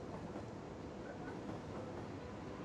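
A train running on rails in the city-building game Cities: Skylines, a steady, fairly faint rumbling roll with soft clatter, continuous and unbroken.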